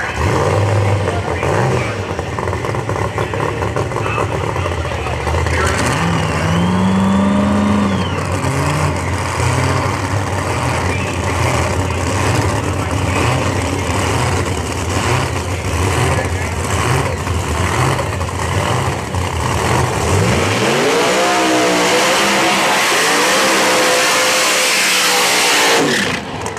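Drag racing cars accelerate down the strip at Flying H Dragstrip during qualifying, a sustained loud engine roar with rising revs, heard under a commentator's talk throughout.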